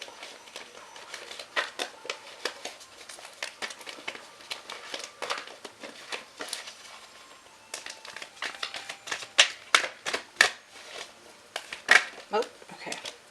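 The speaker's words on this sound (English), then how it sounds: "let me shuffle the cards" Tarot cards are shuffled by hand, giving a run of quick papery flicks, riffles and soft clicks that stay close and irregular and come in bursts, with no voice over them.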